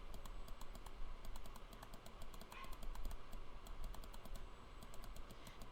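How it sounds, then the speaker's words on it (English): A computer keyboard and mouse click steadily and quickly as items are selected, with rapid light taps continuing evenly throughout at a quiet level. "I'm just holding the shift key as I'm clicking"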